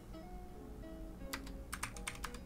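Typing code on a computer keyboard: a quick cluster of close, crisp keystrokes in irregular bursts over a faint background hum, starting after a quiet first second.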